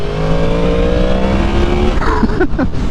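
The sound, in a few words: Yamaha MT-10 motorcycle engine exhaust note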